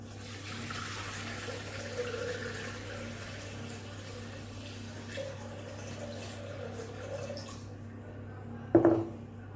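Water poured into a pot set on a kitchen scale for steaming quinoa, a continuous trickling flow for most of the span, then a brief louder knock near the end.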